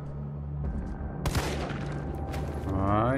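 Gunfire in the Resident Evil 3 Remake video game, a sharp burst of shots followed by further impacts and mechanical clatter, loud against a steady game soundscape, with a rising tonal effect at the end.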